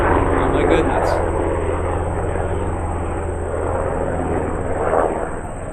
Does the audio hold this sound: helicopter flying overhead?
yes